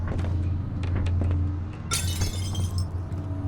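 Glass shattering in the horror game Amnesia: The Dark Descent, a bright burst of breaking glass with scattered tinkling fragments over a low droning ambient hum.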